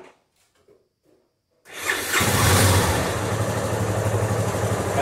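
A Honda Lander motorcycle engine on a dynamometer starts up after near silence and revs hard, holding a loud, steady roar close by for the rest of the clip.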